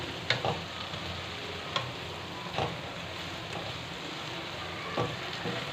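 Spices with meat for bhindi gosht, cumin, dried coriander and garam masala, frying in a pan, giving a steady close sizzle with occasional soft stirring clicks.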